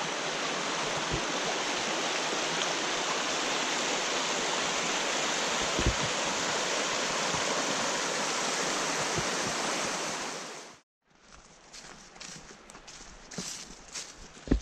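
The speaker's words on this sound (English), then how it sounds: "Still on Franconia Brook Trail, just did another stream brook crossing." A mountain stream rushes steadily along the Franconia Brook Trail in the White Mountains, a loud continuous broadband wash of water near at hand, then abruptly drops away to quieter rustling and footsteps at the end.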